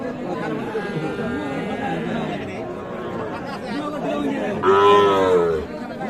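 Cattle at a busy livestock market where Sahiwal cows are sold, with a loud moo rising near the end over constant crowd chatter and bargaining voices.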